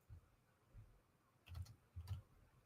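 A computer keyboard that keeps failing during a livestream is typed on in a few faint, scattered bursts of clicks, the last two sharper and closer together, with no talking.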